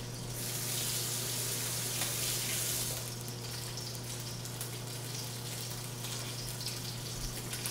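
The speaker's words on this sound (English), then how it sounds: "I'm just gonna wash my hands" A kitchen tap runs steadily as hands are washed under it, while salmon sears in a hot pan nearby; the water rush is loud for the first few seconds, then eases to a quieter flow over a low hum.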